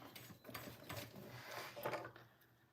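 A sewing machine stitches binding onto a fabric glasses case, running in a quiet, steady mechanical whir with soft repeated needle clatter for a few seconds.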